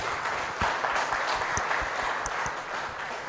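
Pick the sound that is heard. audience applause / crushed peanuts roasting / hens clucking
audience applause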